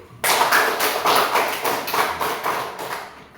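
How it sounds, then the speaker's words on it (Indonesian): A classroom audience claps for a student named Angel, a short burst of rhythmic, fairly close clapping that starts abruptly and fades toward the end. "Tepuk tangan untuk Angel dulu"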